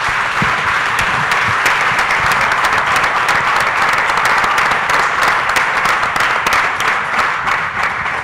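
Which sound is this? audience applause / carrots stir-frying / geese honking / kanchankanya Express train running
audience applause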